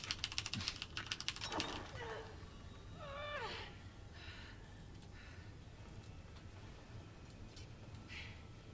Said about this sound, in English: On a mechanical keyboard, that button mashing is so much better.